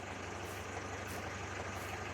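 A tractor engine idles in a farming survival video game, a steady low rumbling drone with no change in pitch, continuous and moderately quiet for the whole stretch.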